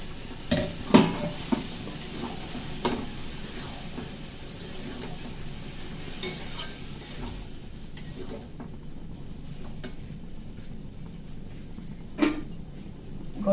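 A spice paste for ghugni is sautéed in a pan. Low frying noise runs throughout, with intermittent clinks and scrapes of a spoon against the pan, louder in the first seconds and again near the end.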